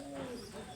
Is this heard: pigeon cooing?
yes